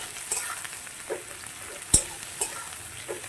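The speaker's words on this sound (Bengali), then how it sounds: "ভালো করে আমি পেঁয়াজটাকে তেলের সাথে মিশিয়ে নেব" Chopped onion stirred into hot oil in a pan while cooking chicken kosha: a faint, steady sizzle broken by a few sparse scraping strokes, one sharper clack in the middle, no talking.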